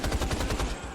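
Rapid automatic gunfire in Rise of the Triad, the 2013 game, comes as a fast, even burst of about ten close, loud shots that trail off at the end.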